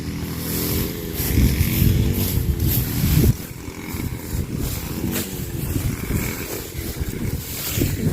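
Heavy, rumbling wind buffets the microphone throughout, a loud low roar with gusts rising and falling, no voices.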